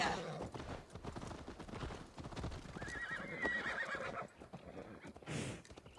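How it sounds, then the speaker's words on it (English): A horse whinnies in Assassin's Creed Valhalla amid rapid clip-clopping hooves, with a high neigh in the middle and rustling background sounds. "This isn't even my horse."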